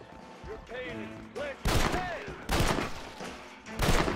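Gunfire from the Red Dead Redemption video game: several loud, sharp shots and bursts ring out in irregular succession, with people talking and exclaiming excitedly over the action.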